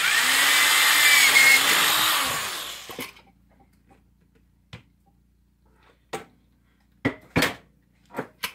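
A power drill bores through a shield being made for SCA combat, its loud whir running steadily for about three seconds before stopping, followed by several sharp knocks and clatters at scattered intervals.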